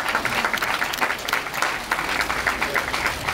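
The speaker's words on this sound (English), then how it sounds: "Round of applause, please, for Sir Richard Branson and AirAsia." An audience applauds Sir Richard Branson and AirAsia, the clapping dense, sustained and fairly close, with scattered crowd murmur beneath.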